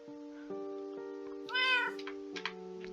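In a village restoration video game, a cat gives one clear, drawn-out meow over steady background music tones, followed by a couple of brief softer sounds.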